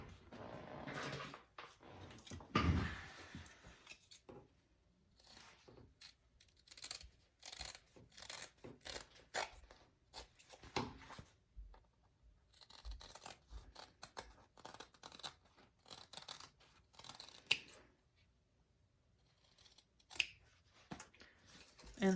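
Scissors trim handbag material close by in short, sparse snips with small handling rustles in between, faint against a quiet room.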